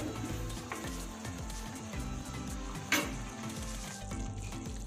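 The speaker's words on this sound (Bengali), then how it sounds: "এটা অনবরত নাড়তে থাকবো, কারণ যেহেতু এখানে কাজু দেওয়া আছে সেহেতু নিচে লেগে যেতে পারে" Cashew masala for a capsicum paneer dish crackles and sizzles in a frying pan while a spatula stirs it steadily, with soft scraping strokes and one sharper clink partway through.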